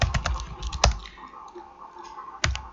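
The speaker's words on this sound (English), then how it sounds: "you type in MySQL admin user and use the root account" Typing a MySQL admin command on a computer keyboard: a close run of quick key clicks, then a pause and a single sharper keystroke near the end, with no voices.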